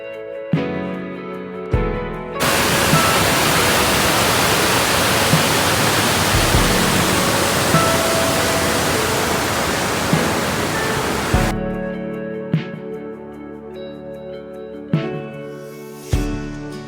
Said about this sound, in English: we have stopped at our first stop, which is Langfossen, which is a waterfall, and it is very famous